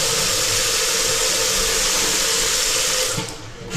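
Water pours steadily from a shower tap in a newly finished house, a loud continuous splashing rush that holds for several seconds before easing near the end.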